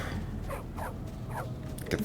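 A dog in the video game Bully gives several short, whimpering barks at a moderate distance over a steady game background.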